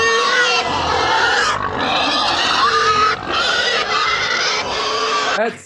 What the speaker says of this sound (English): you might want to know what a baby, what a mother pig sounds like